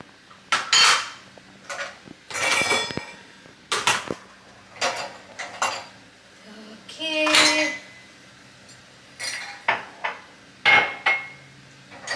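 A knife works through a homemade cake with a series of sharp clinks and knocks against a plate, irregular and close, separated by short pauses, with faint background noise.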